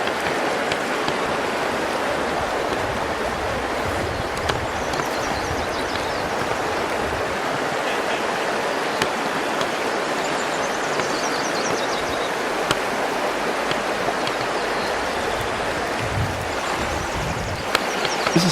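A river in Zion National Park rushes steadily, a dense, even wash of flowing water that holds constant and fairly loud throughout with no voices.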